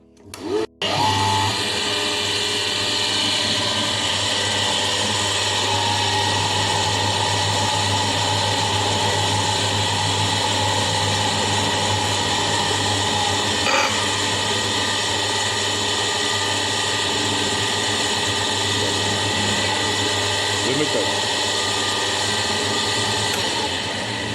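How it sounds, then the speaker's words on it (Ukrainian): A vehicle alternator spun by a correctly tensioned drive belt runs steadily and loudly throughout, a constant mechanical whine and hum with a low drone, starting abruptly after a brief click at the beginning. "Під час роботи зараз ми продемонструємо роботу генератора."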